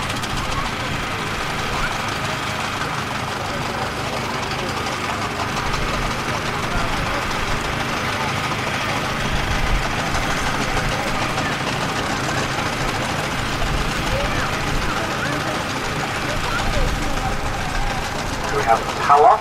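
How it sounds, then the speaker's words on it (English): A 4-inch scale Burrell miniature steam engine built in 1988 runs at a steam and vintage rally, a steady low chuffing mechanical rumble under continuous talk from a commentator and outdoor crowd noise. "that's a 4-inch scale mini steam engine, a Burrell, built in 1988, and it's known as Victoria"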